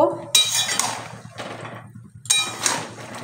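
A metal lid is lifted off a covered pot of tomatoes simmering down for homemade tomato sauce, giving two sharp clinks about two seconds apart over a soft bubbling hiss.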